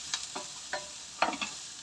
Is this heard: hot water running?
no